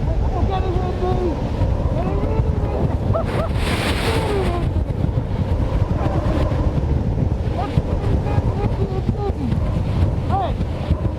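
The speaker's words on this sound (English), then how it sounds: "this is about 65, maybe 70 miles an hour worth of wind" Strong wind of about 65 to 70 mph on the Mount Washington summit roars and buffets the microphone nonstop, a loud, rough rumble with gusts that swell briefly, no pause throughout.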